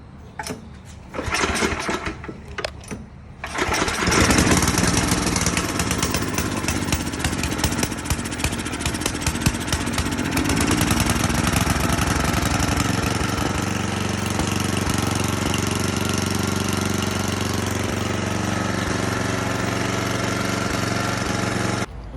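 A Tecumseh snowblower engine on choke coughs into life after a few sputters, then runs at a loud, steady, rattling idle close up, alone with no talk.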